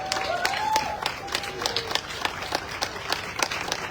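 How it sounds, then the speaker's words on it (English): A crowd at a rose festival parade in Tombstone claps in sharp, spread-out bursts against a noisy outdoor background, with a brief voice near the start. "Ladies and gentlemen, give him a big round of applause."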